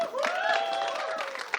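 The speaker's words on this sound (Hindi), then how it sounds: "बहुत सारी तालियां" Audience applause at a Punjabi film trailer launch with the cast on stage, a brief burst of crowd clapping with a voice talking over it.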